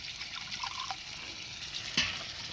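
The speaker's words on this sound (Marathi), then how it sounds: "थोडंसं पाणी टाकते, जास्त घट्ट घट्ट वाटते मला." Water is poured into a cooking pot of thick, boiling mixture, making a faint liquid splash and trickle over a low background, with a brief sharper splash near the end.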